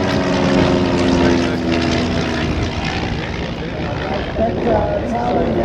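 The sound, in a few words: RAAF CT-4 propeller aircraft flying past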